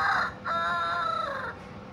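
A red village rooster crows nearby, loud and clear, in one long drawn-out call that lasts about a second and a half and then fades into quiet background.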